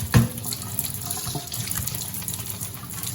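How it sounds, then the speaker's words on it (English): Tap water runs and splashes into a bowl holding squeezed half lime, starting with a sharp gush and then settling into a steady close trickle, with no talking. "I'm putting a little water in it to soak it in there"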